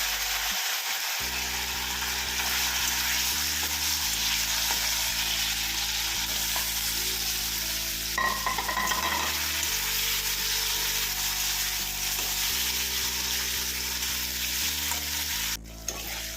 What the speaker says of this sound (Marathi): पनीर तळून घ्यायचं